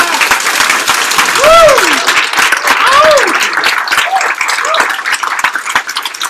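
An audience at a Democratic primary debate claps loudly and steadily for several seconds, close and full, while a speaker's voice carries over the applause.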